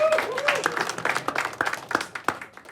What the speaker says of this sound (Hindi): अंकुश शर्मा का तालियों के साथ स्वागत वापस कर दिया जाए